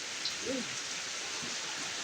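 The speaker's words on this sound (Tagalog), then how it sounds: "Kasi ang lakas po ng ulan." Steady heavy rain pours down in a dense, continuous hiss, with a faint voice-like murmur briefly surfacing.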